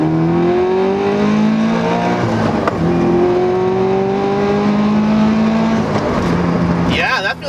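A turbocharged Scion FRS accelerates hard from inside the car, the engine pitch climbing steadily through gear changes and dropping at each shift before the run ends.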